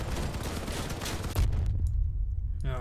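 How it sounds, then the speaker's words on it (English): Rapid autocannon fire in the vehicle combat game Crossout, a dense, loud burst of repeated shots that stops abruptly and leaves a low rumble, followed by a brief rattling tail. "Autocannon, fire. Fire at will."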